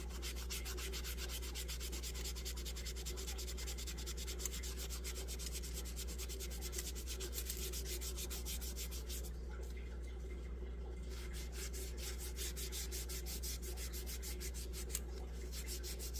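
Steady rapid rubbing and scrubbing on an old wooden or plastic fishing lure, cleaning grime from its painted surface, heard close and continuous over a low hum.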